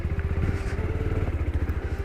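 A motorcycle engine throbs in a close, rapid, steady low pulse on an off-road forest trail at night, carrying a passenger, running continuously with no talk.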